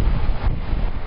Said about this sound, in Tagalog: Pabugso-bugso pero malakas ang ulan at hangin.